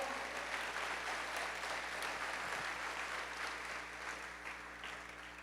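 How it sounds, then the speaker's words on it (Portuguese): Church congregation during an Easter sermon claps together in a dense, even wash of applause that carries on without pause, slightly fading near the end. "Você pode aplaudir o Senhor?"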